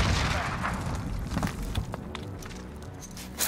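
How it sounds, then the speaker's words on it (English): A grenade explosion in the video game Call of Duty Warzone: a heavy boom and thuds amid a busy battlefield, with sharp cracks of gunfire and footsteps around it, and a late thump near the end. "Grenade out!"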